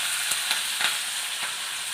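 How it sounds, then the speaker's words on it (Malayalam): Mustard seeds splutter and crackle in hot oil in a pan, giving a bright, steady hiss with scattered sharp pops, close and alone with no talking. "കടുക് പൊട്ടി വന്നുണ്ട്."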